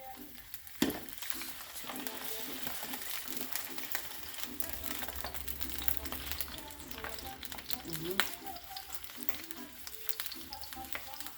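Spicy food frying in a non-stick pan, a continuous crackling sizzle with scraping and stirring clatter from utensils against the pan, steady throughout at moderate level.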